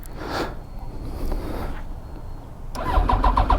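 A Yamaha FJR1300 motorcycle cranks with a whirring starter, then catches near the end and settles into a close, rumbling idle as it warms up.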